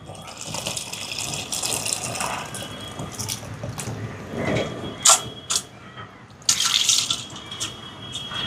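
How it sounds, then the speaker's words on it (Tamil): Soaked tamarind pulp squeezed into water makes close, continuous splashing and gushing sounds, with a few sharper pours and splashes toward the end. "புளியை சேர்க்குறேன்."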